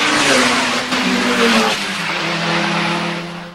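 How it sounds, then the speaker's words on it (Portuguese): Drag racing cars rev loudly at the launch line of a concrete drag strip, a continuous close engine roar with rising and falling pitch and a hint of tire noise, no voices over it. "Preste bem atenção nesses carros na linha de arrancada."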